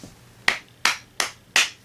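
Four sharp hand claps ring out alone at a steady, slightly uneven pace, each crisp and close with a quick decay, against a quiet room.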